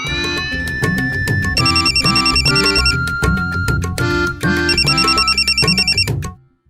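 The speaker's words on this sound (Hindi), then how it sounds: "फोन की घंटी बज रही है" A telephone rings loudly and steadily in repeated electronic bursts with no pauses for talk, then cuts off abruptly at the end.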